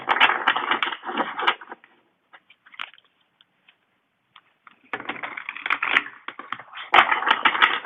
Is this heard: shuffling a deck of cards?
yes